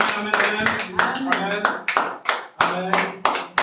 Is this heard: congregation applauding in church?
yes